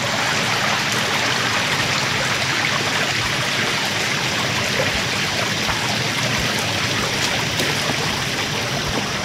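A river stream flowing steadily in an outdoor bushcraft setting, a continuous broadband wash of running water with no pauses, close and fairly loud throughout.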